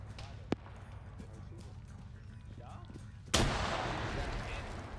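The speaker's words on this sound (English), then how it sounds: "Grenades! Grenades!" Grenade blast in a video game, heard as a sudden loud explosion partway through that leaves a sustained roaring rumble, after a lone sharp bang and scattered distant thuds, with no talking.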